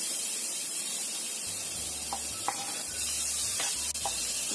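Garlic and ginger sizzle in a frying pan as a steady, close hiss of frying oil, with faint clicks and light taps from a utensil scattered through.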